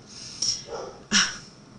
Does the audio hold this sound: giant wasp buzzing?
no